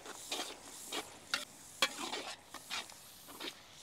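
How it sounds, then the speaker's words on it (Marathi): Fresh coconut paste sautés in a pan for a village-style crab curry, with faint scraping stirs and soft sizzling that come in short, uneven strokes, quiet and close. "आपण आता यामध्ये ओल्या नारळाची पेस्ट केलेली आहे ती टाकून घेऊ। 2 मिनिटं व्यवस्थित परतून घेऊ"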